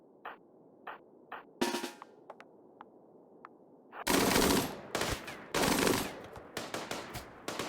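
Minigun fire in RimWorld: a few sparse single shots at first, then long loud bursts of rapid automatic fire, broken by short pauses and mixed with scattered extra shots.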